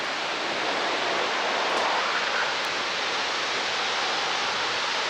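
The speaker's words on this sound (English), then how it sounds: "the sound of the waterfall when you're really close up" Shoshone Falls in Twin Falls, Idaho thunders at close range, a dense, steady roar of rushing water with no breaks, filling the whole scene.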